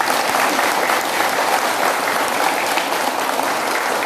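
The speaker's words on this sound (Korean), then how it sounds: "찬사의 박수 부탁드립니다" Steady, dense applause from an audience at a Buddhist dharma service held in the Bulgwangsa temple lobby, a full crowd clapping continuously and evenly throughout with no voices.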